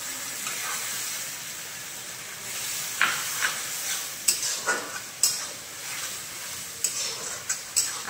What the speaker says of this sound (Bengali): আদা রসুনের কাঁচা গন্ধ চলে যাওয়া পর্যন্ত কষিয়ে দেবো।